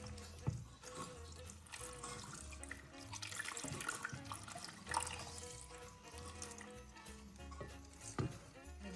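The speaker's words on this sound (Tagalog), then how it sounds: "Naman sa ilalim, lagyan natin ng tubig." Water pouring into a Christmas tree stand, a faint steady trickle and splash running for several seconds, broken by a few louder knocks and drips.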